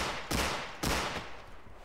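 Two sharp, loud gunshots from a video game gun, spaced about half a second apart, each with a brief decaying tail; no talking over them.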